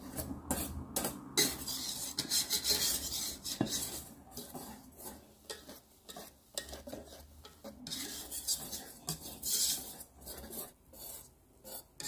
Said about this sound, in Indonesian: Kita aduk rata pelan-pelan.